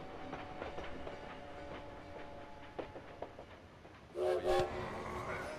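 A train at a Paris depot in the video game Valiant Hearts, a rhythmic clatter of wheels with faint tonal hum, then two short horn blasts near the end.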